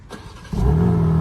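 A car engine starting, with a brief cranking followed by the engine catching and settling into a steady, close, low idle rumble, no voices.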